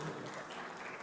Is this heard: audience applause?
yes